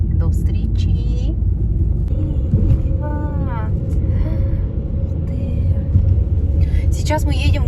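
Car driving on a road in the Amur region toward Tynda, a steady loud low rumble of engine and tyres inside the cabin, with voices talking over it.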